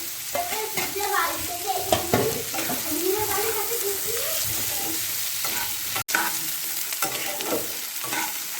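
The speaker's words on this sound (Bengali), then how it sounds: "এইভাবে ভেজে নেব।" Potatoes and snails fry in a pan with a steady close sizzle, punctuated by scraping stirs and spatula knocks, one brief sharp click midway; a voice murmurs faintly at moments.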